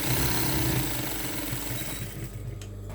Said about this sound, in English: So let us go on the sewing machine and see what to do